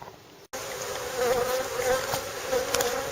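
Honey bees buzzing around an opened beehive on a poor-weather day, a close, continuous droning hum that swells and wavers after a brief cut near the start.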